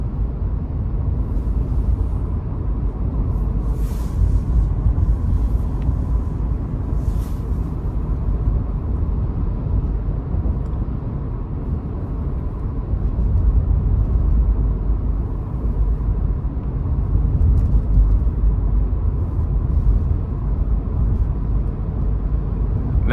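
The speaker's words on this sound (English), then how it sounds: "I'm hearing the wind through the vehicle" Steady wind rush and low road rumble fill the cabin of a 2023 Toyota 4Runner SR5 V6 while driving, a constant broadband hiss with no voices.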